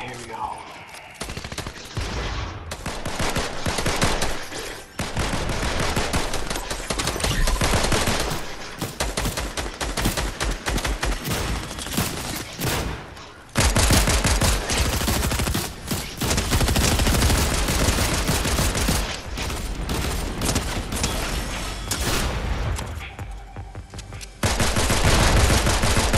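Sustained rapid gunfire rattles almost without pause, loud and close, with bursts and volleys stacking on each other while a voice speaks briefly over the shooting.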